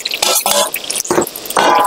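Cluster beans sizzle and crackle in hot oil in a pan, short bursts of spitting and pops that come in quick clusters, loud and close.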